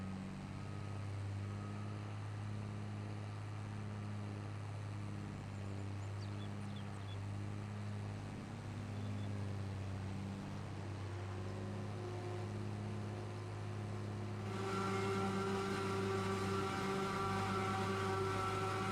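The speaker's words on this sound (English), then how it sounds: "Oh, come on, tractor. What are we struggling here for?" A tractor engine in Farming Simulator 22 drones steadily as it labours up a hill, a continuous low mechanical hum that brightens into a harsher, higher whine near the end, with no voices.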